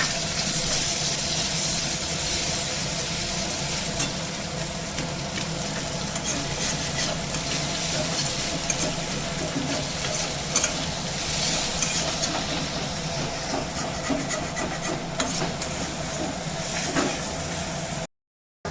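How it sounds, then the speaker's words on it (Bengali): Chopped onion sizzles in hot oil in a pan while prawn chop filling is prepared, a steady crackling hiss with occasional clicks and stirring scrapes, continuing evenly until it cuts off abruptly. "এবার আমি পেঁয়াজটা দিয়ে দেবো"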